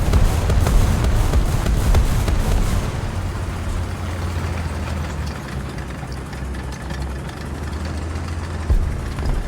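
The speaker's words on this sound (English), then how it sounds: "Hear an engine on our left." A low, rumbling video game vehicle engine drones steadily throughout, fairly loud, with a faint knocking texture and no talking.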